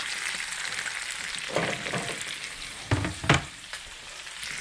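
Onions, Spam and tomatoes sizzle in a pan: a steady close crackle that swells in a few louder bursts as food is added and moved around.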